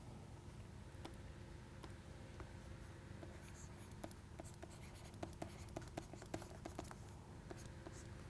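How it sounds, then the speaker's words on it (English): Equations written on a board, soft scratchy strokes and small taps of the marker or chalk that come faint and quick, in irregular bursts under a low room hum. "I will use the space down below to write it down"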